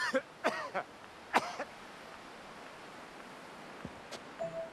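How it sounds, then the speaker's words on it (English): A burn victim lying on her back at an emergency scene gives several short, raspy coughs close by, separated by quiet pauses with faint rustling. "She's coughing"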